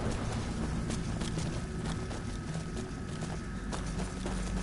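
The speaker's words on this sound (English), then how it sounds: "It's a pretty cool horse." Horse hooves clip-clopping in the Skyrim video game, a steady walking rhythm of close, distinct hoof strikes over a low, continuous background hum, with no talking.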